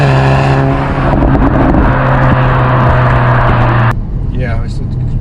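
A car with a DSG dual-clutch gearbox accelerates hard, its loud steady engine drone climbing smoothly before a quick seamless gearshift drops the pitch, heard from inside with people talking over it.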